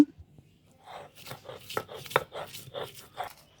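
Chopped onion being ground into a spice paste on a grinding stone, making a quick series of close, rhythmic scraping and crunching strokes, fairly quiet and with no talking.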